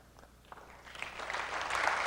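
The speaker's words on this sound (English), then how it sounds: "I think that's the first applause for VRAM" Applause from an audience at a 1992 Apple user group product introduction, starting faintly with a few scattered claps and swelling into fuller clapping over two seconds.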